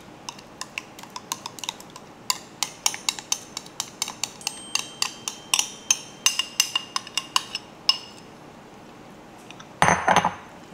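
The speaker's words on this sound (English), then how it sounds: "And get it all stirred up in there." Utensil clinks and scrapes against a bowl as mayonnaise and sour cream are stirred into potato salad: a steady run of sharp, close taps, ending in a brief louder clatter.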